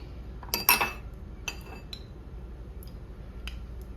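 Spoonfuls of oil added to a pan: a bright metallic clink and clatter near the start, then a few lighter spoon taps against the pan, close and fairly quiet against a faint hum.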